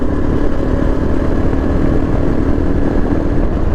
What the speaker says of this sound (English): see, the bike is juddering.